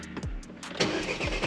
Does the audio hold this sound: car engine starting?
yes